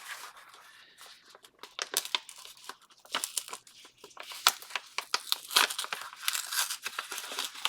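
Paper envelopes opened and greeting cards handled at close range: steady crinkling, rustling and soft tearing of paper, in irregular bursts that grow busier toward the end, with no talk.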